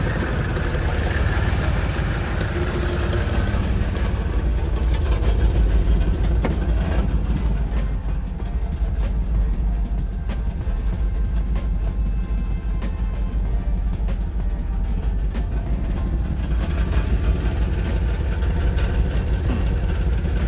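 A Mercedes GL450 engine with misfires idles roughly, producing a loud, close, low rumbling drone with an uneven, pulsing texture and irregular stumbles throughout.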